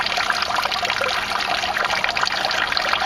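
In an aquaponics setup, water trickles and drains with a steady, fairly loud splashing flow that stays even throughout, with no voices.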